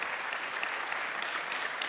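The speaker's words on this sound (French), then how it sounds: "vous pouvez l'applaudir et la remercier" Steady applause from an audience at the opening session of a business conference fills the whole stretch, a dense, even wash of many hands clapping with no break.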